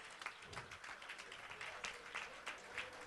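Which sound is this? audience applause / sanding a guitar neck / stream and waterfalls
audience applause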